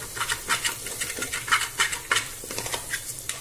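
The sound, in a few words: stirring goat head curry masala frying in pan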